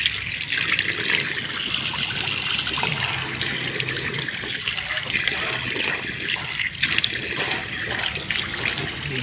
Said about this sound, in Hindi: पहले हाथ धोता हूँ